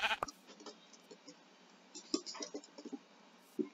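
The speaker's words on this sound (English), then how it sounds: "it's a double sheep" Sheep bleat in a video game, a couple of short bleats standing out over quiet game sounds and clicks, with a voice speaking briefly.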